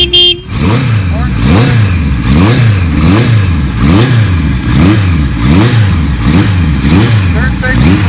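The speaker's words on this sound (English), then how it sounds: "Very nice shifting bike." A 1976 Kawasaki KZ900A motorcycle engine revs up and drops repeatedly in a steady, rhythmic cycle at close range, loud and continuous through the clip.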